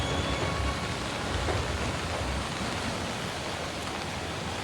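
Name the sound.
continuous heavy rain in the city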